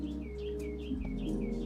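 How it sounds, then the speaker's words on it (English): A bird chirps repeatedly in quick, faint tweets, somewhat distant, outside a window, over a low steady hum. "I hear a bird outside my window."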